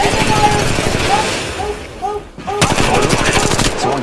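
Rapid bursts of automatic gunfire from the video game Apex Legends keep up a dense, loud rattle throughout, briefly dropping out in the middle before resuming, with faint voices underneath.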